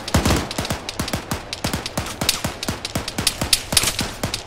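Rapid gunfire from the Arma 3 video game crackles in quick, fairly regular bursts, loud and close, with sharp repeated shots running continuously throughout.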